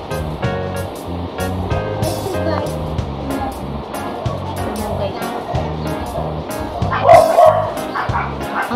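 A household dog barks and yips repeatedly in short bursts close by, with a whimper near the end, while a person talks over the noise indoors.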